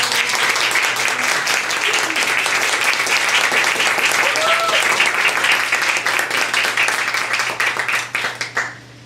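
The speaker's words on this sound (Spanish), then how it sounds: "Entonces, en el violín, por favor, un fuerte aplauso para Jorge López." An audience breaks into loud, sustained applause for a violinist being introduced during a Spanish-language radio and TV show, the dense clapping holding steady before thinning out and fading at the end.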